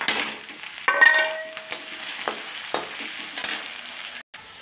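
Chopped onions, chillies and other masala for kadhi frying in oil with cumin, heard as a close, continuous sizzle with a few scrapes and clinks from stirring.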